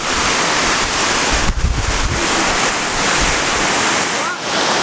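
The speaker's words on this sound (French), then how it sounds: "là on est sous la cascade de El Chiflón" Loud, continuous roar of the El Chiflón waterfall in Chiapas close by, with heavy wind buffeting the microphone and brief gusty bursts.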